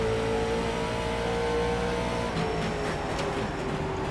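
A late model race car engine in the iRacing game at the Nashville Fairgrounds, droning loudly and steadily at high revs with a slight dip in pitch, no talk over it.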